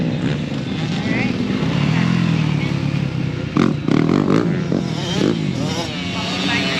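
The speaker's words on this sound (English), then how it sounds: "And this is the adult dirt bike class." Adult-class dirt bikes racing around an ATV park track, engines droning and revving with occasional bursts and clatter, while a commentator talks continuously over the racket.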